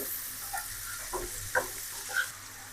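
A long bean and potato fry with turmeric, chili and salt sizzles softly in a pan while a spoon stirs it. A few light clinks of metal rise above the faint, steady frying.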